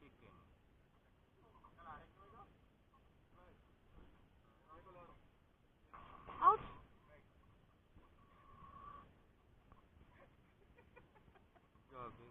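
Chickens cluck in short bursts close by on an ostrich farm, with one louder squawk midway, over a quiet background of faint voices and farmyard noise.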